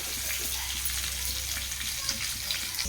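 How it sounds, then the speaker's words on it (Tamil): Pamban dried anchovies fry in oil and are stirred and turned in a pan so the oil coats every side. A steady, hissing sizzle runs without a break, with faint stirring underneath and no speech. "நல்லா கிண்டி விடணும். அப்போ தான் எண்ணெய் நல்லா சேரும் எல்லா பக்கமும்"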